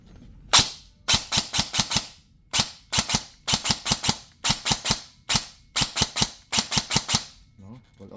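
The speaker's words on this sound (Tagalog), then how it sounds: "Full auto natin." Upgraded Stoner KS3 toy rifle firing on full auto, sharp cracking shots in quick bursts of three to five, repeated steadily with brief gaps between bursts, close and loud.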